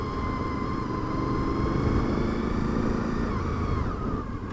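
A motorcycle riding steadily, its engine droning with a constant loud hum and wind rush throughout, heard from the rider's position.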